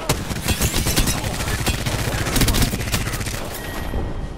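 Dense, continuous automatic gunfire from the battle royale shooter Apex Legends, with several weapons rattling at once in a loud, sustained exchange and faint voices underneath.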